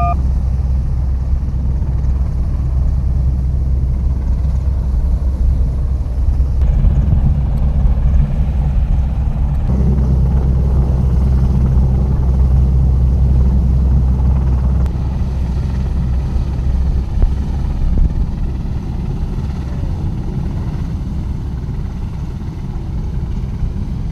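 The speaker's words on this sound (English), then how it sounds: "Two F-35B Lightning II jets have successfully landed on board HMS Queen Elizabeth for the first time" Steady loud engine roar with heavy low rumble and wind buffeting as F-35B Lightning II stealth fighter jets land on the Royal Navy aircraft carrier HMS Queen Elizabeth at sea, continuous throughout with no talk.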